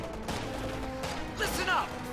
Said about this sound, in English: A grenade going into the house.